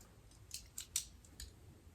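A quiet cut at a marked spot during a loose electrical outlet repair: four or five short, crisp snips in an uneven rhythm over faint background hiss.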